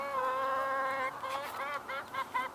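Chickens on a homestead clucking and squawking at feeding time, a flock of overlapping calls, one drawn-out tonal cry followed by shorter broken clucks, close and fairly loud.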